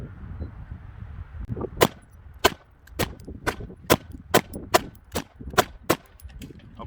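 Ten sharp pistol shots from a VP9 fired at a steady, unhurried pace at an outdoor range, each crack loud and distinct with short gaps between them.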